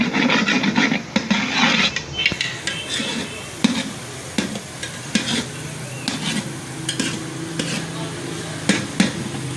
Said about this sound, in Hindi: अब हम देखते हैं कि हमारा जो प्याज हमने ग्राइंड करके डाले थे ऑयल में, वो ब्राउन हुए हैं कि नहीं।